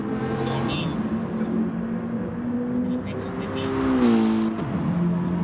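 Race cars in a sim racing video game qualifying at Tsukuba circuit, a steady engine drone with rising and falling revs as cars accelerate and shift, loud and continuous throughout.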